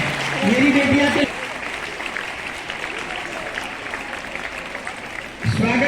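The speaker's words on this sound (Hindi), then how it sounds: "स्वागत की श्रृंखला में आपकी तालियां रुकनी नहीं चाहिए बेटा।" Steady applause from an audience at a school welcome ceremony fills the space for several seconds, dense and even, with a voice speaking briefly at the start and end.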